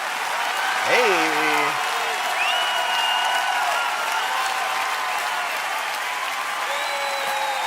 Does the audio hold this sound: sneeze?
no